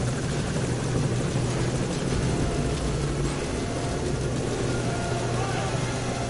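A helicopter in Metal Gear Solid V: Ground Zeroes keeps up a steady, heavy rotor thrum and engine drone without pause, loud and constant throughout, with a player's voice talking over it now and then.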